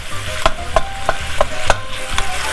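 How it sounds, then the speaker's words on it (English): Sausage browns in a pan with a little olive oil over a steady loud sizzle. A spoon or spatula scrapes the pan in about five even, regularly spaced strokes. "get your sausage there, start browning it up."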